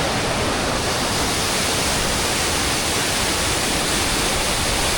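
A big waterfall about 10 to 20 meters high in the Scottish Highlands roars in a steady, loud, broadband rush that fills the whole stretch without a break.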